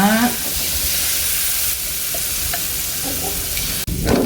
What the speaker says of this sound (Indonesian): Langsung saya masukkan bumbu yang di blender barusan